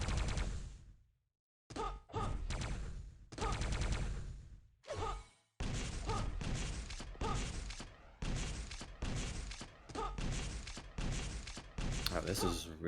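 Rapid grenade launcher shots and explosions in Quake 3 DeFRaG, loud bursts of chopped, dense blasts coming in quick succession with brief silent gaps, and a commentator talking in the background.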